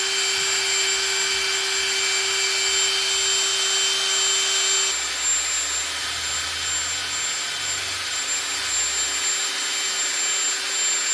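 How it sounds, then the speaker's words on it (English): A drill spinning a Scotch-Brite sanding pad to polish a part from a Nissan 4x4 engine, a steady high whine that drops in pitch about halfway through and keeps running continuously, loud and close with no talk. "I've got these little sanding pads with like Scotch-Brite things that go into a drill."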